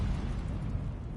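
An Incendio fire spell cast in Hogwarts Legacy on PS5 gives a loud, steady roaring burst of flame that lasts just over a second with no pauses.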